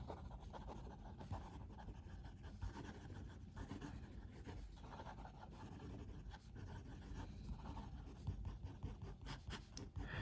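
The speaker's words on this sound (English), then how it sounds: "Let's do some quick writing." Jinhao Dadao 9013 fountain pen nib scratching across paper, a steady soft rasp with small irregular strokes, close and quiet, no talking.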